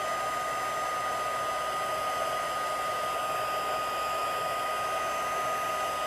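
A heat tool blows a steady, even whoosh of hot air to melt white embossing powder, running continuously at close range with no talking.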